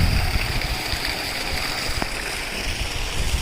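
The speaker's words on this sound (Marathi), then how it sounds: "ओढ्याचं पाणी विहिरीत सोडले।" Stream water flowing into a well on a farm, a steady continuous rush of water filling the whole clip at close range.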